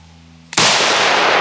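A single sharp .22LR rifle shot fired outdoors, loud and close, cracking suddenly after a quiet moment and leaving a long noisy tail of echo.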